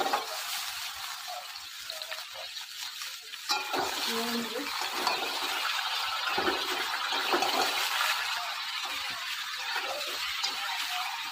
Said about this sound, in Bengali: ভাজা হয়ে গেছে, এখন মাংসগুলো দিয়ে দিবে